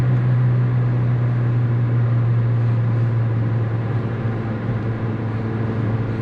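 A 1991 Saab 900 Turbo 16S heard from inside the cabin as the engine pulls under acceleration with the turbo coming in, a steady loud droning hum with no voices.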